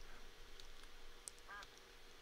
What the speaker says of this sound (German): Diese Ente, die wollte ich töten.